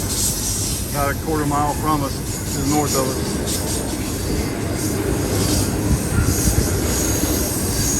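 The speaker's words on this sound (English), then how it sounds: "this train is changing from track 2 to track 1" A distant train rumbles steadily along the tracks with faint metallic squeals while switching from track 2 to track 1 near the summit of a steep grade, someone talking over it near the start.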